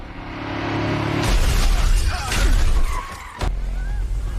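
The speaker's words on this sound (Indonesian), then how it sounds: "ia menabrakkan mobilnya ke arah mobil Andrew" A car smashes into another car in a film scene, with engine roar, tire skid, a loud crash and shattering glass, up close and alone.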